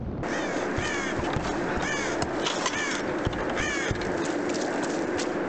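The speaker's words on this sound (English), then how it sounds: "Look, them crows" Crows caw repeatedly in the Tomb Raider 2013 video game, in a village setting. Several loud, harsh calls ring out one after another over steady ambient noise, with no talking.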